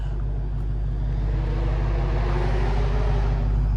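Car, a Hellcat Redeye among others on a highway, gives a steady, heavy low rumble with engine drone throughout, close and fairly loud with no voices.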